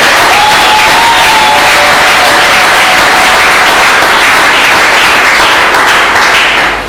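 A church congregation at a morning service applauds and cheers loudly, a dense, steady roar of clapping and voices that fills the whole stretch and fades slightly at the end.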